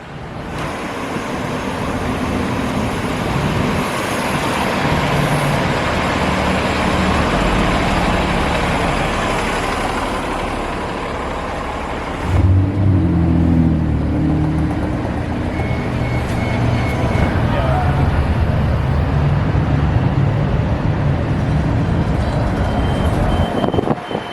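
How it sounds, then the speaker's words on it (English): A Golden Gate Transit bus drives along the red bus lane of the Van Ness BRT, a loud, steady engine rumble and road noise that continues throughout, swelling partway through as it passes close. "here comes a Golden Gate Transit bus sharing the red right-of-way now"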